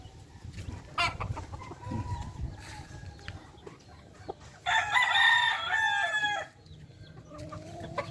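A rooster crows loudly in one long call mid-clip, with other fowl clucking and a fainter crow nearby amid quiet farmyard background.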